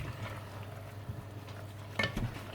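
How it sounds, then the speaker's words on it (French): Ingredients for a Flemish carbonade, beef stew, being stirred together in a pot, soft scraping and shuffling with a light sizzle underneath and a sharper clink near the end. "On mélange le tout."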